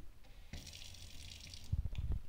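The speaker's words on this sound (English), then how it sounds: "This is called a sink" Kitchen sink tap gushing water for about a second in a steady, close hiss, then shutting off, followed by a few soft low knocks.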